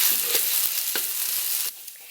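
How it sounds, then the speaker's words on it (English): A paste of blended chillies and onions frying in a wok with shallot oil gives off a steady, close hiss, with occasional stirring clinks. The sizzle drops off sharply near the end. "And we're going to fry it in the wok with some shallot oil."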